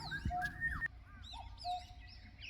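A cuckoo and other birds call faintly outdoors at dawn after rain, short whistled and chirping notes at a distance over a low ambient background.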